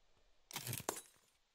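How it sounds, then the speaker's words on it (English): Glass shatters in a video game: a bright, crashing burst followed by a second sharp crack, then tinkling debris fading out, all fairly faint. "I heard glass breaking."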